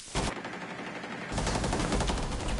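Rapid automatic gunfire in a ranked online shooter game, dense continuous bursts of shots that intensify midway, loud and close with no clear talk over them.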